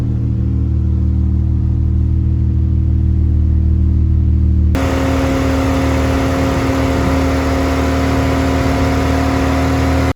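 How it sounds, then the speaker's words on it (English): A Mercedes W203 fitted with a turbocharged M104 straight-six engine idling, giving a loud, steady, close drone whose tone abruptly brightens into a busier whirring hum about halfway through. "I had the car idling there for a couple of minutes"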